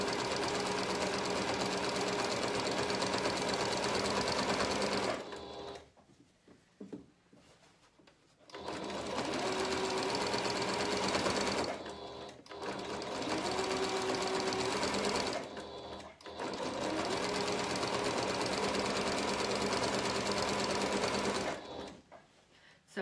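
A sewing machine stitching a seam allowance on a McCall's 7061 garment, steady motor hum and rapid needle chatter in three long runs separated by short pauses.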